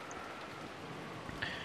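Steady rain hisses in the ambience of the visual novel Umineko When They Cry, a soft, even wash of falling drops with no voices.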